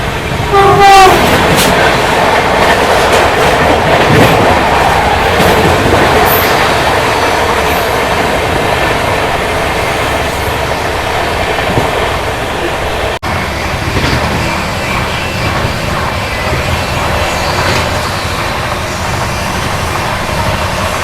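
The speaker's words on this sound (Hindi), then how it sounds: "अपनी गरीब रथ एक्सप्रेस निकल चुकी है हजरत निजामुद्दीन रेलवे स्टेशन से" The Garib Rath Express pulls out of Hazrat Nizamuddin station in Delhi, its horn sounding early on before a loud, continuous rumble and clatter of rolling coaches carries on close by.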